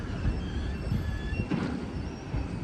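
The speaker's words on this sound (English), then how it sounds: "So here are the tram lines. I love how skinny these trams are." A narrow tram rolls past on the tram lines of a Vienna street, a steady rumbling of wheels on rail with a faint squeal, close and continuous.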